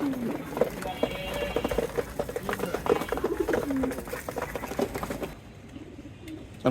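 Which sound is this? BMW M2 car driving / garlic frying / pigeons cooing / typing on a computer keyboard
pigeons cooing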